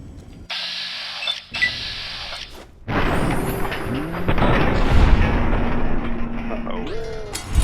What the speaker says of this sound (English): somehow that explosion didn't kill us